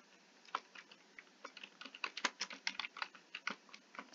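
Computer keyboard being typed on to enter a terminal command, a close, quiet string of quick key clicks in an uneven rhythm, alone with no voices.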